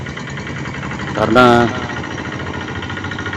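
A hand tractor engine runs steadily in a rice field with an even mid-pitched putter, while a person speaks briefly over it partway through.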